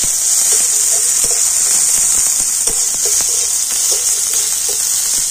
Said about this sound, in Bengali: তো এখন আমি পেঁয়াজটা একটু লাল লাল করে ভেজে নেব।